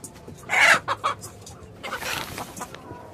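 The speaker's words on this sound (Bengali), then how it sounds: "ওনারা অনেকগুলো মুরগি পালে" Chickens kept on a six-storey building's rooftop, clucking in a few short close bursts with brief pauses between, moderately loud against quiet background.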